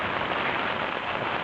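Steady rain falls at a campsite, a dense, even patter on surfaces that stays constant throughout, close and fairly loud with no voices.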